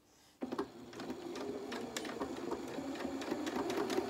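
A sewing machine starts up suddenly and hums along at a steady pace, stitching the leg of a pair of knickers with a close, continuous mechanical whirr and no talking over it.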